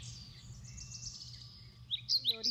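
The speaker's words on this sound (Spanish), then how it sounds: "Mis pajaritos me acompañan todo el día." Small birds chirp and tweet in a sunny garden, a few thin high calls at first, then a quick burst of sharper, louder chirps near the end over a faint low background hum.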